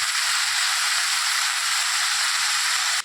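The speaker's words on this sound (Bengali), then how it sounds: "ঝিঙে আলু পোস্তটা বসিয়েছি, ভাজা বসিয়েছি এখন" Ridge gourd and potatoes for a poppy-seed dish frying in a pan, giving a loud, dense, even hiss of sizzling oil that holds steady and then drops suddenly at the end.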